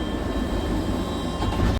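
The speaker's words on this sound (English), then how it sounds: "We're on the tram now, or the train, to back to Disney." Steady rumble of a passenger train on the ride back to Disneyland Paris, a continuous low rolling drone with a faint tonal whine, heard from inside the carriage without talk.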